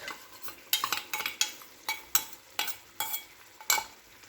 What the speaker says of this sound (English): Mix it and cook it for 3 to 5 minutes